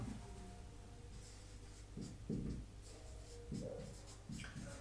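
A teacher writes a word in Hindi on a board, the strokes coming as short scratchy bursts scattered over a low steady hum, with no talking.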